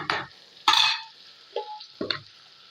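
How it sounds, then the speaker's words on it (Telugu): A spoon scrapes and stirs brinjal and tomatoes in a frying pan. Four separate stirring strokes come close together, each a short clattering scrape over a faint sizzle, with quiet gaps between them and no voices. "ఇప్పుడు ఇట్లా వంకాయలు మగ్గినప్పుడు మనం టమాటాలు వేసేస్తాం"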